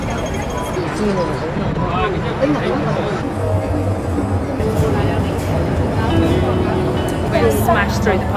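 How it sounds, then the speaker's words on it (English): Hong Kong MTR subway train in motion, a steady rumble and rail noise with a loud crowded-carriage chatter of many voices throughout. "we're now on the MTR subway"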